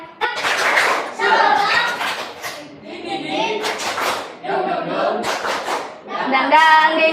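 Group of pupils doing a rhythmic spirit-clapping ice breaker in a Qur'an and Hadith classroom lesson: patterned bursts of claps alternate with children's voices chanting along, close and lively.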